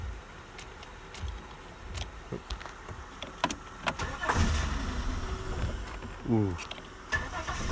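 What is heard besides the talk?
1998 Holden Commodore VT engine cranking after ether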